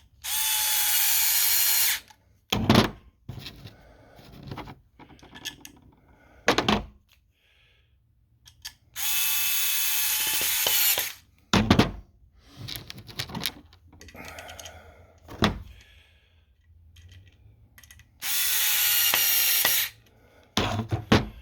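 A power drill drives screws into a wooden stringer during assembly, with three long, loud whirring bursts spaced several seconds apart. Sharp knocks and thumps of handling fall between them, with no speech.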